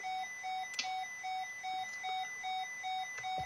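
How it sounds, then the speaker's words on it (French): A faint cockpit panel alarm beeping in a steady repeating pattern after power is cut during a standby inverter check, short regular tones with a few soft clicks in between. "ça allume l'alarme."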